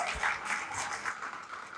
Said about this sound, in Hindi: इतनी कम तालियां